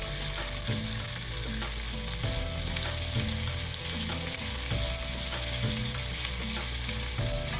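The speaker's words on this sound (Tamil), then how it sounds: "இதை நல்லா போட்டு வறுத்துக்கலாம்." Onions fry steadily in a hot pan, a dense continuous sizzle with occasional scraping and stirring clinks, loud and close.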